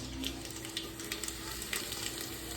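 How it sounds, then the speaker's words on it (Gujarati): Curry leaves sizzling in hot oil as a tempering for spiced rice, with a steady crackle and sizzle and small popping spatters, heard close and without talking. "હાલો ચાલ લીમડી નાખી દઉં"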